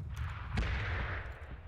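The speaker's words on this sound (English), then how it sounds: "Explosions." Explosions and gunfire in the battle-royale game PUBG, a dense burst of low booms with a sharper crack near the middle, rolling on through the short stretch.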